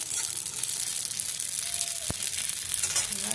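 Poppy seeds fry and get stirred in a pan for a wedding-style fried greens dish, giving a steady close sizzle with scraping and crackling throughout.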